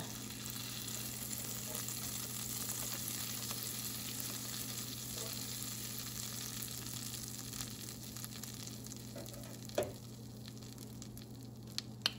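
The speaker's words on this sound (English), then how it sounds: "first thing first, I'm gonna add your butter. Gonna let it melt." Butter melts in a pan on the stove with a soft, steady sizzle and crackle that runs throughout, with a few faint clinks near the end.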